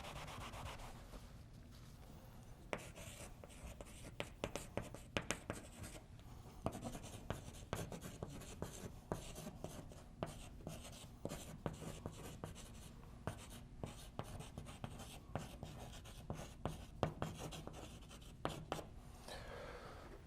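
A pen or marker scratching across paper in a quiet room, with a run of short, uneven strokes and taps that stay soft and close.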